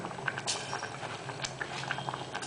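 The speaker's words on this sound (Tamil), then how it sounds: "இந்த புளி தண்ணியில் அது கொதிக்கிறது" Tamarind water bubbles and simmers steadily in a pot, with soft irregular popping and gurgling close by.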